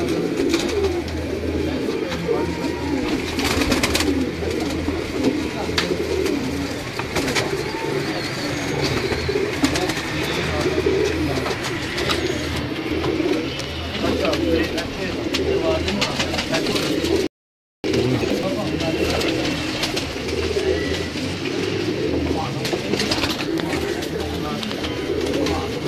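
Pigeons at a pigeon show in Lahore keep up continuous overlapping cooing, close and steady throughout, with one brief dropout partway through.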